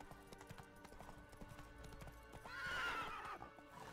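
A horse named Roach trots in The Witcher 3, hooves clip-clopping in a steady rhythm with a short whinny partway through, fairly quiet behind game ambience.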